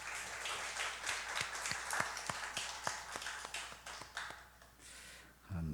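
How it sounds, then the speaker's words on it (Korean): A church congregation at a Friday late-night prayer meeting claps together in encouragement, a steady rhythm of fairly faint, distinct hand claps over a roomy background, ending in a louder brief burst. "우리 박수로 격려합니다"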